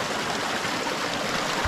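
Water from a natural source streams steadily outdoors, a continuous broadband rushing that stays even and fairly loud throughout, with no voices over it.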